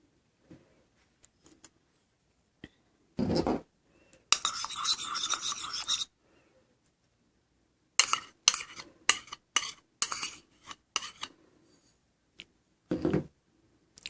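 Olive oil, apple cider vinegar and sugar being stirred or whisked into a salad dressing, heard as close bursts of brisk scraping that come in short spurts with quiet gaps between them.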